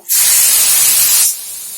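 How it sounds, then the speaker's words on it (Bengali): Water poured into a hot pan of spiced potatoes sets off a sudden loud hiss and sizzle that holds steadily for about a second and then drops to a softer simmering hiss, close and with no voices. "আমি এখন জল দিয়ে দিব"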